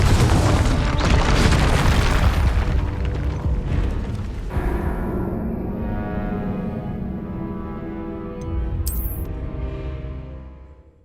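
A Confringo explosive spell detonates in Hogwarts Legacy, a loud deep boom with a long rumbling decay, followed by fading debris crackle and a brief sharp high chime near the end.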